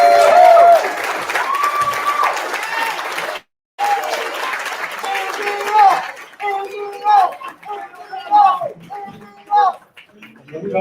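At the close of the Buffalo mayoral debate, the audience bursts into loud applause and cheering that comes in rolling waves. Scattered chatter and voices mix with the clapping, which briefly breaks off and then picks up again.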